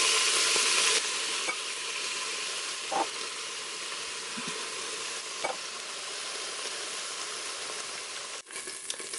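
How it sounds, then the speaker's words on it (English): Beef browns in a hot pan, giving off a loud, continuous sizzle close by. A few soft stirring scrapes and taps sound over it, with no talking. "Okay, so I have my beef browned and put the onions in."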